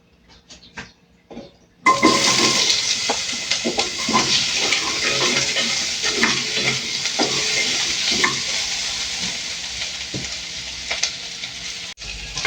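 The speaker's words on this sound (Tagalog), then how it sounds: "Unahin ko muna tong pretuhin tong patatas na hiniwa ko guys." Sliced potatoes drop into hot oil in a pan, a few quiet clicks followed by a sudden loud, steady close sizzle with scattered crackles and spatters, no talking.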